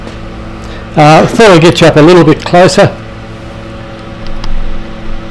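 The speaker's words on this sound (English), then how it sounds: "sorry about that fan in the background." A fan hums steadily in the background throughout, while a person speaks briefly over it near the start.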